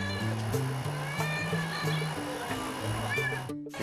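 A mother stray cat on a café rooftop calls her kittens with a run of drawn-out, wavering meows, repeated several times and fairly close, with some low background noise.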